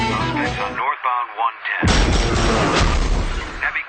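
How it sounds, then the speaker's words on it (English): A crackling radio voice gives way to a sudden burst of dense, sustained gunfire with sharp cracks and pops. "Heavy gunfire exchange."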